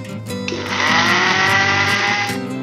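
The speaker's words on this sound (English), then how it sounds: "Grind 50 g fresh coriander leaves, 1/4 teaspoon black salt and 2 pinch of black pepper powder in a grinder" An electric grinder whirs as it blends fresh coriander leaves with black salt and black pepper powder, a loud, steady motor whine that rises in pitch after a brief start and runs continuously.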